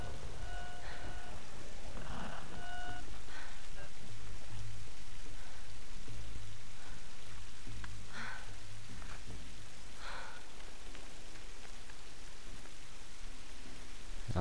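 Steady rain pours through a cold, dark night scene in a video game, a dense continuous hiss with occasional faint rumbles, heard alone without talk.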